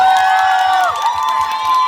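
Crowd cheering and whooping at a Chinese New Year 2019 concert event in the Central Plaza Chonburi shopping mall, a loud steady roar of voices with music playing underneath.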